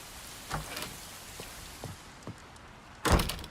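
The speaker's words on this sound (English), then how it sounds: "You can hear the lock shuffle as doors open and close." A few faint mechanical door-lock clicks and shuffles in the video game Hytale, spaced apart, then a louder latching clatter near the end, quiet and close.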